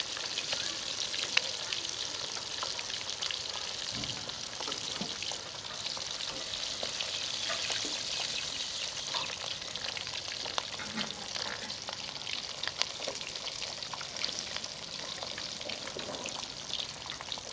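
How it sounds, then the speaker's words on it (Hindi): Fish pieces fry in hot oil for a fish karahi, a continuous soft sizzle with fine crackling and scattered pops running steadily throughout, fairly quiet and without speech. "सारी मछली को मैंने थोड़ा थोड़ा करके फ्राई कर लिया है।"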